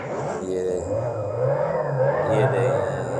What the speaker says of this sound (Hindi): बहुत ज़बरदस्त इसकी साउंड है और लाइक ऐसे जैसे कोई हैवी इंजन स्टार्ट बिल्कुल हुआ हो